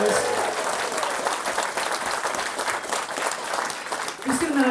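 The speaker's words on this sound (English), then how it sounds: "Please give him a massive round of applause." An audience at a 2017 walk-and-talk event bursts into dense, sustained applause, many hands clapping loudly and evenly for the whole stretch with only a slight dip near the end.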